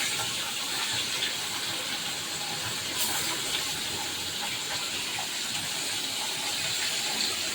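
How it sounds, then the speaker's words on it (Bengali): Pabda fish rubbed with salt and turmeric, frying fairly crisp in hot oil, giving a steady broadband hiss and crackle that runs unbroken throughout, with no voices. "আমি পাবদা মাছটাকে একটু কড়া করে ভেজে নিচ্ছি"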